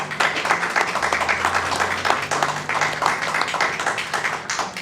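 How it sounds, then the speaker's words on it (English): An audience at a speedrun marathon event claps steadily for several seconds, a dense, fairly loud patter of many hands with no voices over it. "you can stop clapping now"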